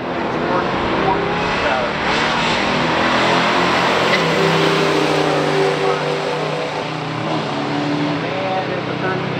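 A 1970 Buick GSX 455 automatic drag racing a 1971 Plymouth Duster 340 at a drag strip: loud, sustained engine roar throughout, with rising and shifting pitch as the cars accelerate, and a track announcer talking over it.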